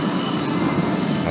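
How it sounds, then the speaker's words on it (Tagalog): An LRT Line 1 light rail train in Manila rumbles past, a loud, continuous roar of wheels on track with a slight metallic squeal, heard briefly and alone. "At ito na nga ang LRT Line 1 ngayon."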